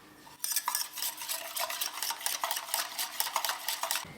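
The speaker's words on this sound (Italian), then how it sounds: "Mescolo bene facendo sciogliere la farina, dovrà essere senza grumi" A flour mixture is stirred in a pot over a flame, the spoon scraping and swishing in quick, regular strokes close up after a brief quiet start, with no talking.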